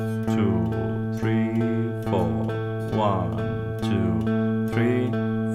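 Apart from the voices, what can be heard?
guitar playing first three measures of a song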